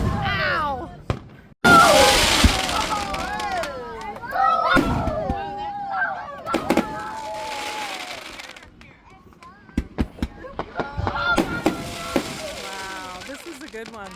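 Fourth of July fireworks explode nearby in sharp booming bursts and crackling showers, several in a row, while people talk, exclaim and cheer loudly over them.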